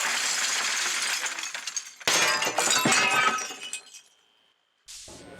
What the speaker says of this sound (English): we couldn't leave without taking a sledgehammer to some windows